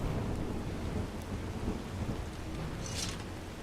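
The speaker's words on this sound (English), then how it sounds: "Nice thunderstorm going on in the background." A thunderstorm rages in the Skyrim video game: a constant roar of heavy rain with low rumbling thunder underneath, steady and enveloping, with no voices.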